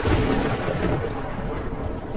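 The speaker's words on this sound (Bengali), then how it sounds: "বাইরে অঝোরে বৃষ্টি হচ্ছে, আর তার সাথে পাল্লা দিয়ে মাঝে মাঝে আকাশ বিদীর্ণ করে চলেছে গুরুগম্ভীর মেঘের গর্জন" Heavy rain with deep rumbling thunder, used as a storm sound effect in a Bengali audio story about a Kalbaishakhi storm night, a dense continuous roar that is loudest at the start and then settles into a steady wash.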